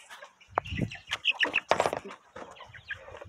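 Chickens in a farmyard coop being fed corn cluck and squawk in short bursts, with wings flapping briefly nearby; the sounds come close and fairly loud, with no talk over them.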